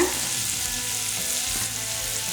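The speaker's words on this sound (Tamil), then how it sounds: "எல்லாம் ஒன்றா சேர்ந்து நல்லா வதங்கட்டும் இந்த எண்ணெயிலேயே நல்லா வதக்கி எடுத்துடலாம்" Small shallots and curry leaves fry in hot oil for a tomato egg gravy, with a loud, steady, close sizzle that runs without a break.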